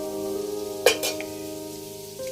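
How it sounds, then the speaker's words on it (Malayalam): A pot of fish curry boils quietly, with a soft steady simmer and a brief clatter near the middle. "നമ്മുടെ മീൻകറിയൊക്കെ ഈ സമയത്തൊന്ന് തിളച്ച് വന്നു."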